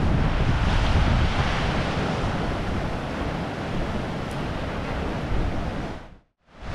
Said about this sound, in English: Nice little bit of rolling swell coming in, but not too bad, a lot less than the other night.